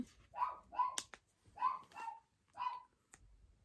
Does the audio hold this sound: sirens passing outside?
no